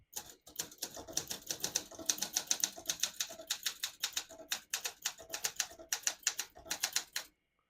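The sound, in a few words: typing on a 1971 Olympia SM9 portable typewriter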